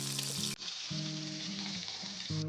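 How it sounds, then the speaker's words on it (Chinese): French-style lamb chops fry in a pan with a bright, continuous sizzle that cuts off abruptly, then carries on more softly under a low tonal hum with faint background music. "法式煎羊排，再撒点这个烧烤料，味道肯定美味了"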